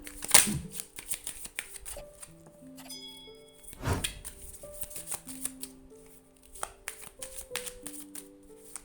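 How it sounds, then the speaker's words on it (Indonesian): A deck of tarot cards being shuffled by hand, with a few crisp riffling bursts and soft card taps against a quiet room, close and fairly gentle. "Seperti biasa, Bunda akan shuffle kartunya."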